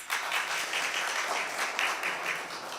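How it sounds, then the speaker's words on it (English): Audience applause at an investiture ceremony for a judge, a steady wash of many hands clapping throughout, moderately distant and unbroken by speech. "I heard big applause from that corner"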